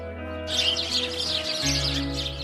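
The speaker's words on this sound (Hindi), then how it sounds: "इसीलिए तो उसे हाउस स्पैरो कहा जाता है" House sparrow chirping in rapid bright bursts over a steady low background hum, a continuous busy twitter at moderate distance with no talk.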